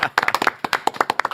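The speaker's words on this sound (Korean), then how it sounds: "박수로 맞이합니다." A small group claps in a studio to welcome a politician, a Democratic Party floor-leader candidate, producing sharp, distinct hand claps in a quick, uneven rhythm, close and clear, with no talking.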